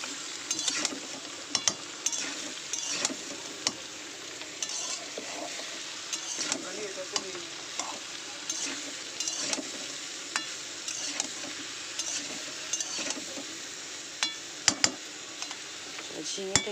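Ridge gourd and potatoes are stirred in hot oil in a pan: a soft steady sizzle runs under repeated scraping and clinking strokes of a spatula, fairly quiet and close.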